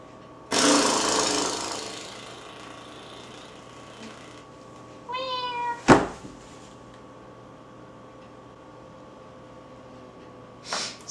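A person imitates a cat with a short, rising meow in the middle, preceded by a burst of loud rustling and followed by a sharp knock and a later thump, otherwise quiet.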